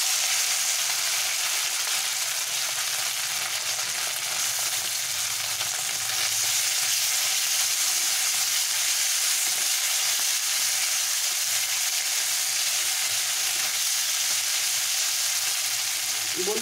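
Fenugreek seeds tempering in hot oil with mashed boiled potatoes in a pan give a loud, dense, continuous sizzle and crackle that holds steady throughout with no speech.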